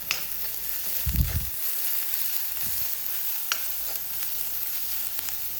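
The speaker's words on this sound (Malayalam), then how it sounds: "ഇതിലേക്ക് ഒരു ഇഞ്ചിയുടെ കഷ്ണം കൂടെ ചേർത്തിട്ട് നന്നായിട്ടൊന്ന് ഇളക്കി കൊടുക്കാം" A piece of ginger sizzles in a pan with garlic for a prawn and small onion roast, a constant close hiss broken by a couple of soft low thuds and light stirring clicks.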